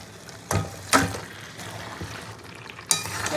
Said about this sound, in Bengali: এবার মশলার সঙ্গে চিকেনটাকে কিন্তু খুব ভালো করে আমি কষিয়ে নেব